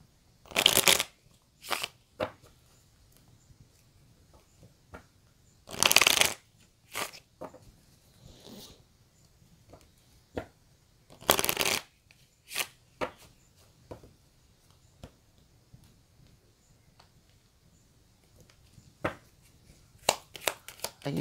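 Tarot cards being shuffled in several brisk, loud bursts separated by quiet gaps with faint small taps and handling noises.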